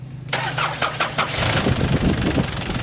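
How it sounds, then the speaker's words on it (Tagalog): A Nissan Frontier pickup engine cranks briefly, then catches and fires up into a rough, rumbling idle, close and fairly loud with no talk. "At pag okay na, pwede ko nang pa-start itong makina."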